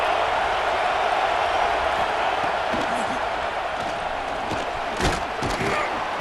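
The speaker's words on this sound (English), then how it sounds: "This crowd, full throat, splitting the eardrums" A roaring stadium crowd in EA Sports College Football 26 forms a loud continuous wash of noise, with a game commentator talking over it and a brief thump near the end.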